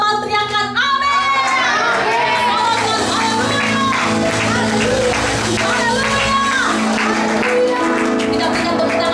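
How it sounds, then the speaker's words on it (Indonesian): Church congregation in an Indonesian worship service shouts amen together, a loud dense crowd roar with cheering and clapping, carried over amplified music. "Yang percaya sama-sama teriakan amin."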